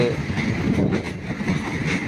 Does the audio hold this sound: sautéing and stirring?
no